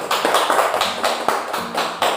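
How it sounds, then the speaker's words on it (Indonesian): Students in an Indonesian classroom clap together for a group after its presentation, crisp claps falling in a steady rhythm about four times a second, close and fairly loud with little talk. "ayo kita berikan tepuk tangan kepada kelompok 1"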